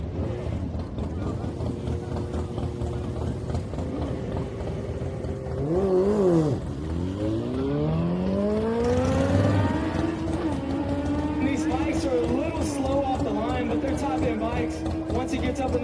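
A street drag racing car in the left lane at Houston Raceway Park on a Friday street night idles with a steady engine drone, then revs hard and accelerates away, its pitch sweeping upward and holding high and loud.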